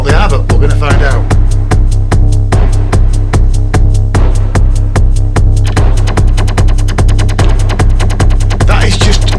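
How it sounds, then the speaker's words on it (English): An Elektron Digitone 2 synth plays a steady, pulsing bass line with a fast run of glitchy, clicking hits layered on top, loud and continuous, with no voices present. "That is just a bass sound."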